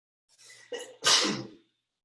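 A single close sneeze: a short intake of breath building up, then a sharp, forceful burst that quickly fades to silence.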